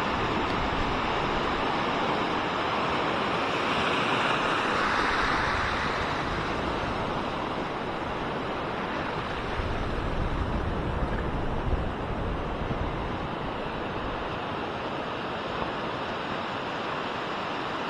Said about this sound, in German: jetzt genießen wir hier die Wellen, das Rauschen